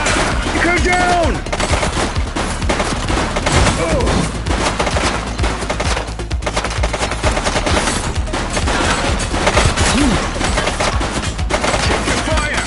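Dense, continuous gunfire erupts in The Precinct, a police video game, with rapid automatic bursts layered under shouting voices and sirens throughout.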